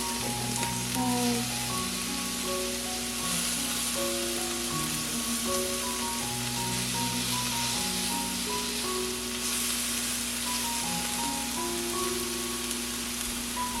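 Scallop and fish fry in a pan with a continuous crackling sizzle, close and steady throughout, while tonal background music plays over it and no one talks.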